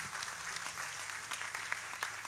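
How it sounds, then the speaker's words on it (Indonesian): Applause from the audience at a nighttime haul religious gathering, a steady dense wash of many hands clapping heard from a distance, fairly quiet and continuous. "Tepuk tangan untuk haul malam hari ini."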